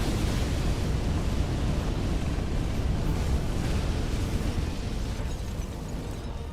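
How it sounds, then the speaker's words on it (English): An enemy breathing fire in Dark Souls 3 roars as a loud, steady, dense blast of rushing flame that fills the whole stretch and fades only slightly at the end. "He's breathing fire."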